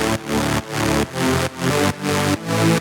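Layered synth bass, a plain saw wave stacked a perfect fifth above a similar layer, plays six sustained notes in a steady pulse, each ending in a short gap. The notes sound loud and close, with no talk over them.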